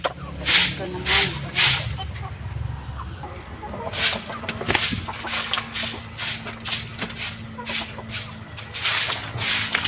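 Pet chickens clucking in their coop, repeated short bursts of clucks over a steady murmur of voices nearby.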